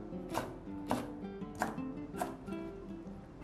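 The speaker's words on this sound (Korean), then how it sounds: "고추 2개 어슷썰기 해줍니다." A knife slices chili peppers diagonally on a cutting board, four crisp chops landing at a steady, unhurried rhythm, close and fairly quiet with light room hum beneath.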